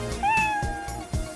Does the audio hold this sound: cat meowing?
yes